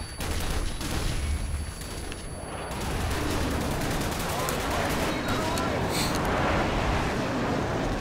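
Dense, continuous gunfire in a Call of Duty 4 multiplayer match on PS3 fills the scene with loud, overlapping rapid shots and noisy battle clatter, while a voice talks over it.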